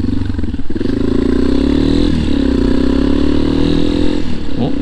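Yamaha Tricker motorcycle engine pulling steadily uphill, a loud, continuous mid-pitched drone with slight surges in revs, heard up close throughout.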